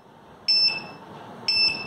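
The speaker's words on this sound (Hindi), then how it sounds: "जब तक डस्टबिन ओपन है ये बजर बजता रहेगा" An ultrasonic-sensor smart dustbin's buzzer sounds while the lid is open: two sharp, shrill electronic beeps about a second apart over quiet room noise.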